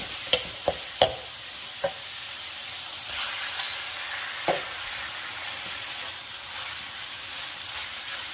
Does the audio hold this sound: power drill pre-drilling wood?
no